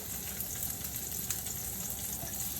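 Soft, steady sizzling of garlic frying in hot oil, a constant crackling hiss at low volume with no talking.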